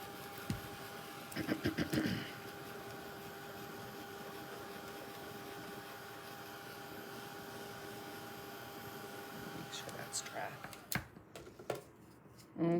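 A heat tool blows a steady whirring hiss while drying paint, running continuously at low level and cutting off near the end, with brief clicks and a voice talking at the start.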